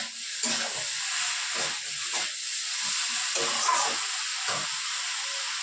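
Spices frying in oil in a home kitchen, a continuous bright hiss and sizzle with small bubbling bursts throughout, close and fairly loud, no voices.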